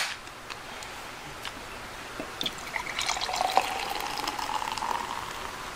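Kinmugi beer pours into a glass, a soft steady trickle and fizz that grows slightly toward the end, close and quiet with no talking over it.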